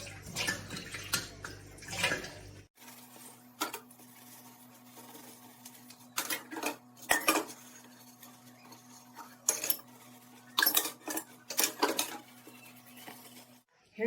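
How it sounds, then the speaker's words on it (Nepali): Dishes are washed at home after breakfast: intermittent splashes of water and clinks of plates and utensils come in short bursts over a low, steady hum, with quiet gaps between. "अब चाहिँ म भाँडा धुन्छु।"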